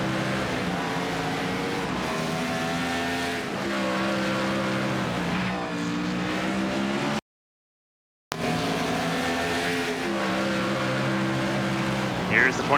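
The Wood Brothers Ford, car 21, races a Winston Cup Series road course at Montreal. A loud, sustained engine note rises and falls, cut by a short gap. Commentary runs over it.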